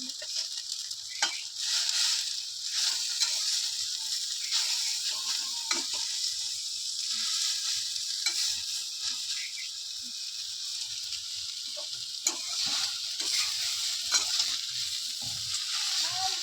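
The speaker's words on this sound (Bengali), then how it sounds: "ঢাকা দিয়ে তো পাতাটা কিন্তু ভাজা হয়ে গেছে" Leafy greens frying in a pan at home, a steady close sizzle with occasional stirring scrapes, running continuously with no talk.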